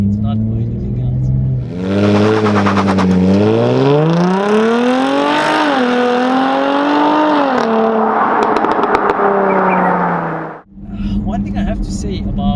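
A Jaguar F-type V6 S engine revs loud and close, its pitch climbing and falling in long sweeping rises before settling to a steady drone, with a throaty idle before and after.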